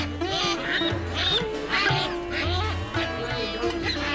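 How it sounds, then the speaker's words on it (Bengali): Farm ducks being tipped out of sacks into an enclosure quack repeatedly in rhythmic, overlapping bursts, close and loud, with a few faint voices beneath. "বস্তা থেকে হাঁসগুলো এখানে ভিতরে ঢোকা দিচ্ছি।"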